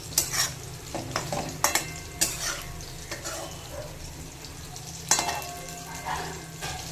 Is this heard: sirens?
no